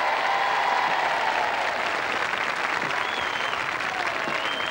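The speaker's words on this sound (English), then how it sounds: "welcome again, a round of applause for Gary Lineker" A studio audience gives Gary Lineker a round of applause at a 1987 royal knockout tournament on BBC television. The clapping is loud, dense and steady for nearly five seconds, with no voices over it.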